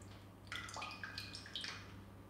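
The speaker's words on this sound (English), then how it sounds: "So Eva, can you pour half that tin into there, please?" Thick canned cream of chicken soup is poured from a tin into a saucepan, giving faint, close wet glugs and squelchy trickles over a low steady hum.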